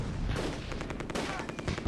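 Gunfire crackles in the Close Combat II war game as rapid bursts and scattered shots pop over a noisy background, moderately faint and continuous for about two seconds.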